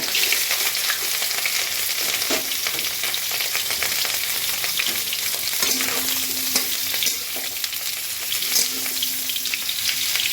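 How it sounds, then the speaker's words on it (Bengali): Cauliflower florets fry in hot mustard oil with a steady, loud crackling sizzle throughout, stirred now and then, with no voices. "তেল গরম হয়ে গেছে, এখন ফুলকপিগুলো আমি একটু লালচে লালচে করে ভাজা করে নেব।"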